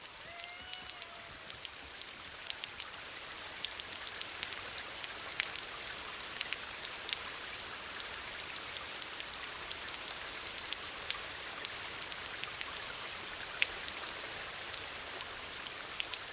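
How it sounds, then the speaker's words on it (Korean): A sudden midsummer rain shower pours down continuously, a dense hiss of drops pattering on surfaces throughout, with no voices. "한여름 소나기는 예고 없이 찾아온다."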